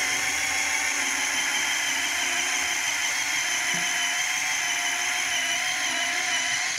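A cordless drill spins an eraser wheel against the paint of an Oldsmobile Cutlass Cruiser to rub off stickers, giving a steady, unbroken whirring hiss that stays loud and even throughout with no speech.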